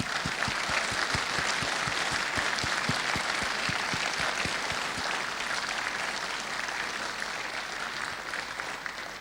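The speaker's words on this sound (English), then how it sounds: "can we have a huge round of applause for Paul Grenier?" A conference audience at NorDevCon 2020 gives a sustained round of applause for Paul Grenier, dense and fairly loud at first, then slowly thinning and fading toward the end.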